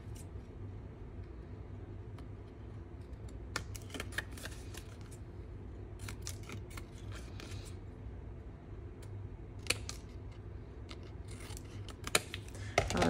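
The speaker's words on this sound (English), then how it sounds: "now we're gonna trim these off. Snip, snip." Scissors snip paper or card while trimming a mini pizza box: faint, scattered crisp cuts and rustles in short clusters over a steady low background hum.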